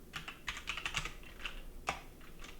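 Terminal commands typed on a computer keyboard, close and quiet, as irregular clusters of crisp key clicks with short pauses and one sharper keystroke near the end; no talking.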